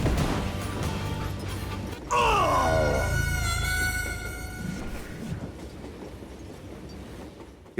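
A train rolls along the tracks in the western video game Call of Juarez Gunslinger, a steady rumble joined midway by a loud, shrill squealing whistle that fades back into the rolling noise.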